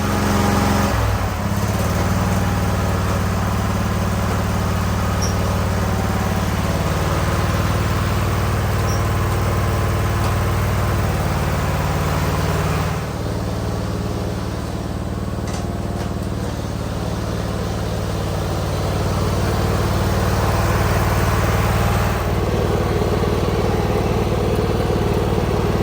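A riding lawn mower engine, freshly repaired after it stopped moving and became hard to shift, runs steadily while being driven, a loud, close, even drone that dips briefly and then rises again.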